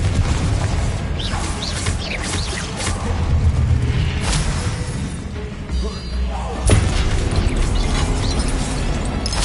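Confringo blasting spell explosions in Hogwarts Legacy, a dense run of game combat with repeated booms and bursts, the sharpest blast about two-thirds through, under continuous spell effects and shouted voices.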